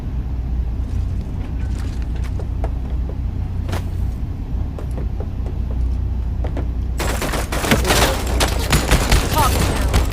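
Gunfire in the mobile shooter game Disorder, with a pistol among the weapons: a steady dense bed of game noise with scattered shots, then a loud burst of rapid repeated firing in the last few seconds.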